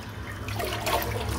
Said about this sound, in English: I'm just going to empty the sink out.